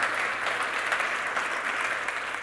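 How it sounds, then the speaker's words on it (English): Audience at the Opal venue applauding during a LISTEN 2017 event kickoff, a steady burst of close, dense clapping from a crowd that holds its level throughout. "Can we get some applause for the venue?"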